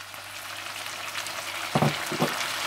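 Potatoes and fenugreek leaves fry in a pan with a soft, steady sizzle near the mic, and two short bursts of clatter from stirring come toward the end.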